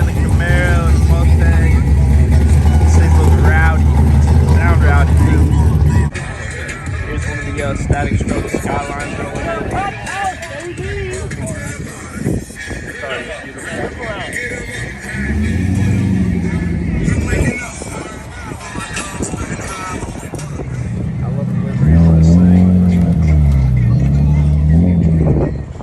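A rowdy engine at a burnout competition car show, among an old S10, a Camaro and a Mustang, revs loudly up close before fading under a crowd's chatter and people talking nearby.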